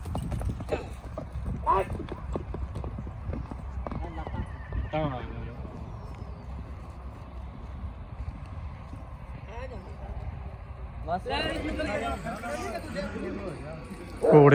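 Horses' hooves clip-clop during horse riding by Sikh Nihang riders, a faint steady patter under near-constant talk, with crowd noise building toward the end.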